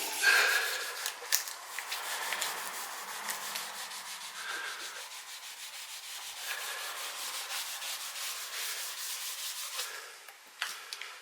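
Cloth rubbing excess oil finish off the wooden body of a Telecaster kit guitar, a soft continuous scrubbing with rhythmic strokes, close and quiet.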